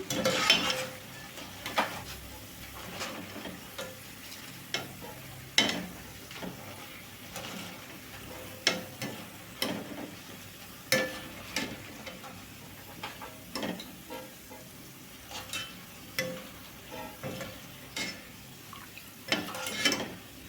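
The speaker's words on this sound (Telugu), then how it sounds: "చూడండి ఇట్లా బాగా అయితే క్రిస్పీగా అయితే వేయించుకోవాలండి" Pieces of ivy gourd fry crisp in hot oil while a spoon stirs and scrapes the pan, producing a soft sizzle punctuated by regular clinks and scrapes over about twenty seconds, with no talking.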